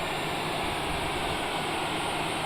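Jet engines of a Cessna Citation Longitude heard from inside the cabin on descent as the auto throttle reduces power, a steady broadband roar with a faint high whine, close and continuous.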